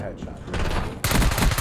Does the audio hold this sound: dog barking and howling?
no